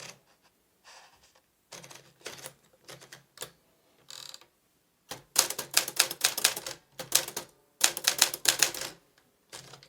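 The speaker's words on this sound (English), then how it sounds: "Now I will be typing on a small label. It's around 160 GSM." Typewriter keys strike a small 160 GSM label in quick bursts of close, crisp clacks, sparse at first and then denser, with short pauses between runs.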